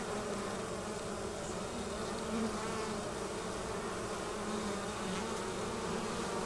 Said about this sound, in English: you can see bees crawling up through it